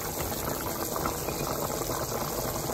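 Water boiling in a pot while cooking chana pulao, a steady dense bubbling and seething that holds evenly for the whole short stretch, with no talking.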